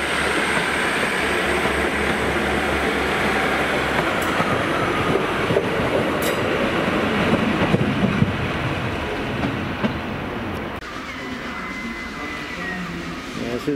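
A passenger train from Penzance runs at Cardiff Central station, a steady loud rumble of rolling stock with wheel and rail noise, low engine drone and occasional clanks and squeals, easing off slightly toward the end.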